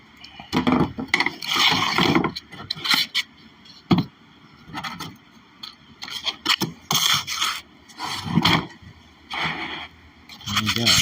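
Repeated rough scraping strokes in uneven bursts as a sanding block is rubbed back and forth over a model aircraft surface, fairly close.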